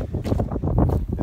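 Wind gusting outdoors across open farm pasture in spring, a steady rough rumble that swells and buffets the microphone in uneven waves throughout.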